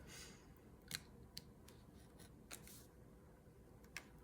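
Scissors cut out a paper specimen card, giving a few sharp, close snips spaced about a second apart over a faint steady background hiss, with no talking.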